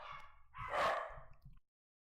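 Dogs bark in a burst of a few overlapping yaps and barks, fairly close and moderately loud, ending abruptly after about a second and a half.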